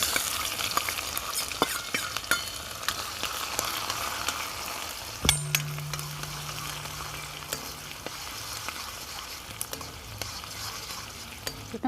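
Onion and ginger hit hot oil with mustard seeds in a pan for Kathiyawadi sev tameta, giving a steady, soft sizzle and crackle with scattered pops and a brief clatter.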